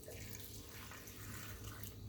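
Spring water pours steadily into a drink for about two seconds, a continuous close, fairly quiet splashing stream.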